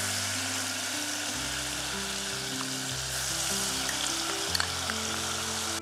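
Spice paste for Hyderabadi chicken hits hot oil in a pot and sizzles loudly and steadily, a dense continuous frying hiss with low stirring thumps and no talking.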